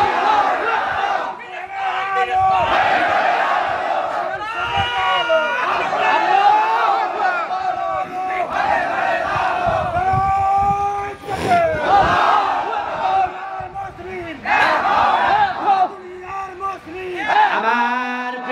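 A large crowd at a religious rally chants slogans, loud and near, in repeated rhythmic bursts of massed voices with brief lulls between the shouted phrases.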